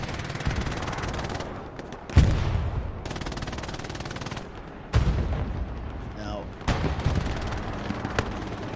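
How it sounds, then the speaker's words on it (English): In the Hell Let Loose video game on the Sainte-Marie-du-Mont map, artillery explosions and gunfire thud and crack loudly, with several heavy booms and rapid bursts between them and brief gaps. "Nice explosion, artillery."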